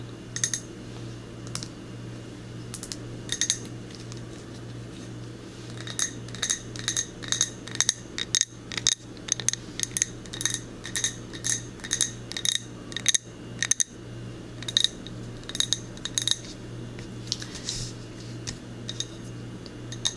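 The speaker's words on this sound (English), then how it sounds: "one of my favorite things about the candle is it is in a glass jar" Fingernails tap and click against a glass candle jar, a long run of crisp, close ticks and clinks in quick irregular bursts over a steady low hum, with no talking.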